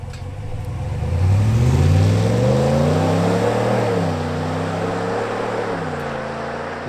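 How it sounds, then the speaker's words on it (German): A 2021 Dodge RAM 1500 Laramie Sport V8 running on LPG is revved from the cabin, the deep engine note climbing in pitch, holding, then settling back to a steady idle rumble. "Spiel mit dem Gas ein bisschen, damit ihr den V8 mal hören könnt."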